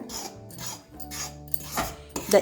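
Repeated scraping and rasping strokes of a spoon working through thick wheat flour dough for idiyappam, mixed with hot water in a bowl, close by, with brief tonal hum in the background.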